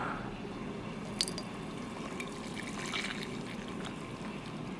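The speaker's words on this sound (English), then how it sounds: "once it's all the way down like this, it's ready to pour" Coffee being poured from a French press into a big mug, a soft steady trickle of liquid with a few faint drips, quiet and close with no talking.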